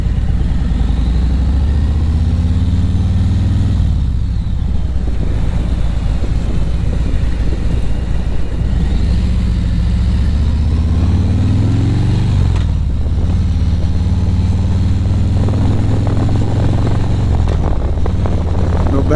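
Motorcycle engine running steadily and loud throughout, with low rumbling pitch rising and falling as the rider shifts and rolls on the throttle, wind noise mixed in, no talking.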